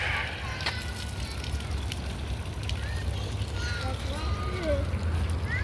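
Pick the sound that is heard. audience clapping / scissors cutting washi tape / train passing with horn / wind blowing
wind blowing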